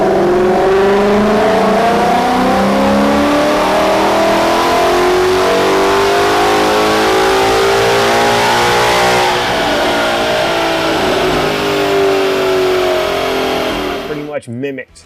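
A 2011 Mustang GT with a Gen 1 Coyote engine revs on a dyno, a loud close engine note climbing steadily through the gears to high rpm before cutting off abruptly at the end.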